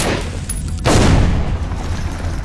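A grenade blast in Metro: Last Light, a sudden heavy boom after a brief quieter moment, followed by a thick rumbling tail that stays loud to the end.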